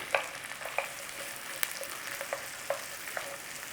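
Onions fry gently in rendered fat in a single pan, giving a soft, steady sizzle broken by scattered sharp pops and the light scrape of stirring. No voices are heard.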